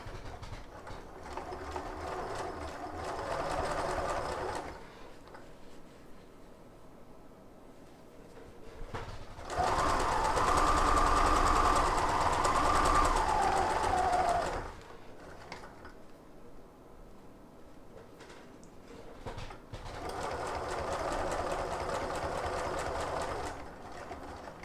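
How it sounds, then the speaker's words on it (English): A sewing machine stitches a fabric storage pouch in three sustained runs, each a steady mechanical whir lasting several seconds, separated by quieter pauses; close and moderately loud with no talking. "Lower that presser foot, and we're going to sew to the next point."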